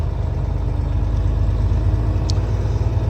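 Truck pulling out onto the road, a steady low engine rumble and drone that holds loud and even throughout with no breaks.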